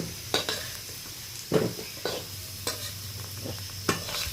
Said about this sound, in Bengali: আলুটা হালকা লালচে করে আমি ভেজে নিয়েছি।